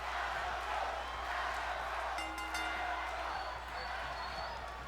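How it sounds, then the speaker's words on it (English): A virtual arena crowd in WWE 2K20 chants for Adam Cole during an Orton versus Cole tournament match, a steady, dense roar of many voices sustained throughout with faint overlaid commentary. "I think they're chanting for Adam Cole."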